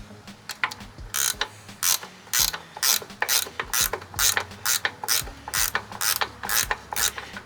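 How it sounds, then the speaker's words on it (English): A ratchet wrench turns a bolt on a Snapper Pro SW30 52-inch mower with a Kawasaki 651V engine, clicking in rapid, close bursts separated by short pauses as the handle swings back and forth. "I'm trying to hold it still while I'm ratcheting on the other side"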